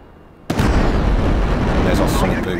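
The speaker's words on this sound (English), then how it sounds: "There's our sonic boom." An F/A-18 Super Hornet in a flight video game breaks the sound barrier: a sudden loud blast hits about half a second in and gives way to a sustained, heavy roaring rumble until the end.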